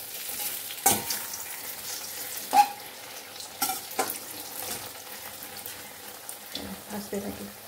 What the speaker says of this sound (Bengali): আমি ভাজছি মিষ্টি কুমড়ার পকোড়া।